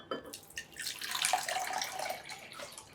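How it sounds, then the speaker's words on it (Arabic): A cup of water pours into an empty bowl, making a soft, brief splashing trickle that swells and then tapers off, faint and close. "هنجيب بوله فاضيه وهحط فيها كوبايه ميه"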